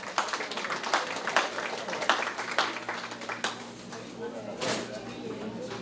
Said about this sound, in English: So can we give them a hand of applause,